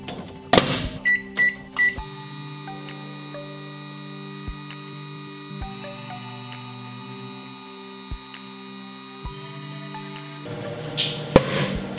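A microwave oven hums steadily with water-filled balloons heating inside, a constant mains drone broken by several sharp clicks and pops; brief knocks and handling noises open and close the run.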